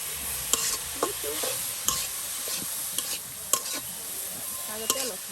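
Radish greens frying in hot oil sizzle steadily, with a utensil scraping and tapping the pan at roughly one-second intervals as they are stirred, close by with no speech.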